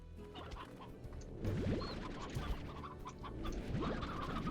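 Chickens clucking in the video game Slime Rancher, a busy mix of short clucks and squawks over steady game background sound, fairly close and continuous, with no talking.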